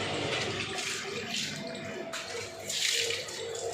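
Water splashes and gushes steadily as a room floor is washed down, the rushing spray rising and falling in loudness with no one speaking over it.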